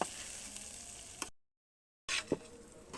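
Polao rice frying in a pan, a soft steady sizzle that cuts out briefly and returns with a clank of stirring.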